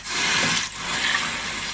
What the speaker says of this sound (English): Now we'll add some water.